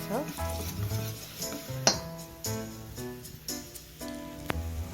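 Korean herb pancakes (chwinamul-jeon) crisp in a frying pan with a close, steady sizzle and crackle, mixed with an occasional clack of the utensil and a tonal background layer running under the frying.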